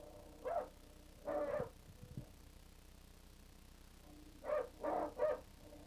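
Hunting dogs bark at a cornered wild boar in the 1970s, in two groups of sharp barks, first a pair and then a quick run of three, distant and moderately loud against a quiet outdoor background.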